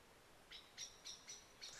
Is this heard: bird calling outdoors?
yes